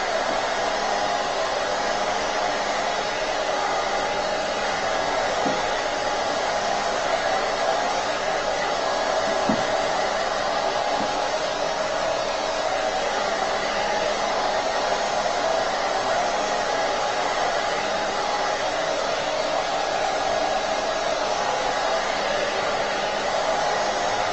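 A hair dryer blows steadily and loudly for the whole stretch, drying paste on a chalk and ink craft project, its constant airy whoosh unbroken, with only a few faint knocks beneath it.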